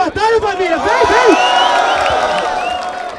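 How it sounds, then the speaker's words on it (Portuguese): A crowd cheers, whoops and claps at a Brazilian rap battle in Barueri, building into a loud sustained roar, with a voice talking over the start. "Tá fraco, palmas pra batalha, família"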